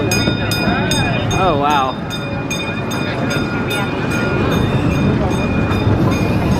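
Steady rolling and rhythmic clicking of the safari train ride at Cincinnati Zoo, heard up close from aboard, with a person briefly exclaiming over the noise.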